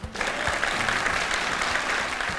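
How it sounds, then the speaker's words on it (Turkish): Studio audience applause breaks out on a Turkish comedy talk show after a football team is named, a dense, steady clapping that rises quickly and holds alone throughout. "2023 artık takım ismi söyleyince alkışlanma ne zaman bitecek ya?"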